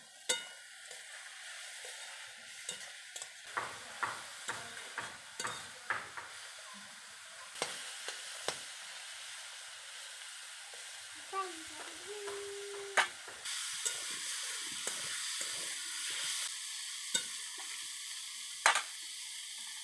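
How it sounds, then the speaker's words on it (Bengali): Fenugreek leaves frying in a pan with a soft, steady sizzle, punctuated by a series of sharp spatula scrapes and stirring knocks, fairly quiet and close, with no talk. "মেথির শাকটা ভাজা হয়ে গেছে"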